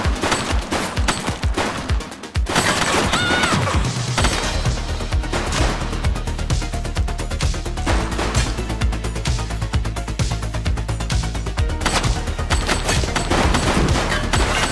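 Dense bursts of automatic gunfire in the police game The Precinct, loud and sustained, with rapid machine-gun rattles and heavy shots filling nearly the whole stretch after a brief pause.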